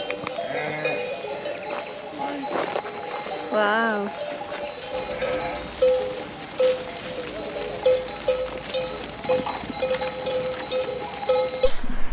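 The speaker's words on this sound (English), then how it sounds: "a few sheep." A few sheep bleat at a campsite in Europe, their wavering cries rising repeatedly over a clinking of bells and light outdoor ambience, with a brief voice exclaiming once.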